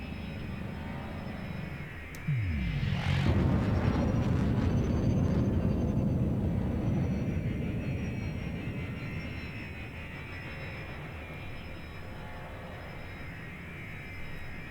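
Spaceship engines in the game Elite Dangerous throttle up to full thrust, a loud roaring rumble that swells in after a brief rising whine, then holds steady and slowly eases off with no talking.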